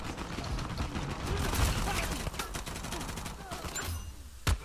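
Sniper and other gunfire in the action game Uncharted 4, a continuous clatter of shots and impacts with one sharp, loud crack near the end.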